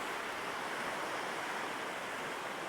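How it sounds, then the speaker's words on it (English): Wind gusting steadily at the coast during a fishing trip, a constant broadband roar that may be mixed with surf and stays even throughout, with no voices. "Oh, that wind."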